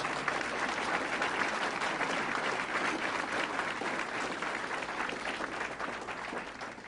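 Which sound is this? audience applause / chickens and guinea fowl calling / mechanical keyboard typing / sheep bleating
audience applause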